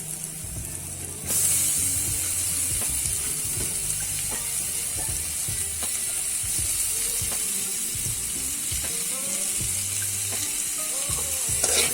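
Onions and tomatoes fry in a pan for a curry. After a quiet first second, a loud, dense sizzle starts abruptly and holds steady with faint scraping, and no voices.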